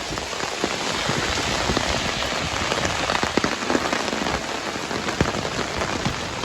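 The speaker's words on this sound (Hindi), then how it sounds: "इतनी तेज बारिश लगी हुई।" Heavy stormy rain pours down in the town of Dadyal, Azad Kashmir, a dense, loud, continuous hiss with scattered sharper drops and splashes close by, and no voices.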